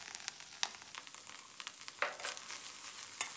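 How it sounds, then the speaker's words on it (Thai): Eggs being stir-fried in a pan with sliced fresh chillies and spring onions, a soft, steady sizzle broken by a few sharp scrapes and clinks of a spatula, with no talk. "แล้วก็ผัดคลุกเคล้าให้เข้ากันเล็กน้อยนะครับ"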